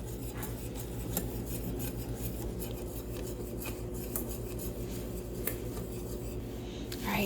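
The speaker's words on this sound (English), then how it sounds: "we want to keep stirring because this is where it will definitely stick to the bottom of the pan if you don't stir" A spoon stirs oatmeal in a cooking pan as it thickens near the end of cooking, giving a continuous soft scraping and rubbing against the pan bottom with steady low background noise.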